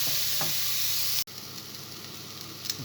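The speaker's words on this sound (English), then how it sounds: "I'm just going to gently brown off the onions" Onions gently browning in a pan for butternut soup, a steady close sizzle with a brief stir or clack midway and soft spatter afterward, no talking.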